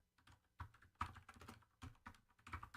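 Computer keyboard typing while entering text for a WooCommerce product page, a quiet, uneven run of clustered keystrokes with short pauses between bursts, close and alone with no voices.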